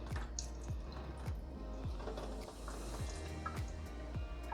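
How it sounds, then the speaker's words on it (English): Liquid from a can of diced tomatoes draining and dripping for a pasta sauce in a home kitchen, a steady series of soft wet drips and splatters heard up close at a low level. "The recipe called for diced tomatoes. I am gonna drain this a little bit"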